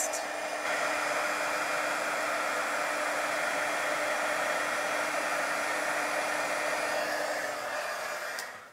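A heat gun blows steadily while embossing powder is heated on a stamped card, a constant close hiss-whir that starts abruptly, holds for several seconds and cuts off at the end.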